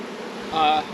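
Honey bees buzz in a dense swarm at an open hive being split, a steady close drone that swells louder near the end.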